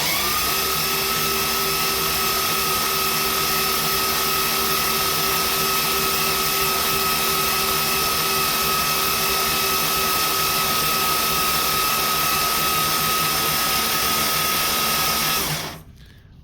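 A Mopar 440 big-block V8 spins over on the starter without firing while building oil pressure, giving a loud, steady mechanical drone that holds for about fifteen seconds and then cuts off.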